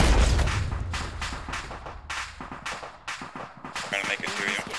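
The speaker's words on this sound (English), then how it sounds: "Rocket." A rocket fired in the military game Arma opens with a heavy low boom, followed by scattered gunfire and thumps while players talk over radio.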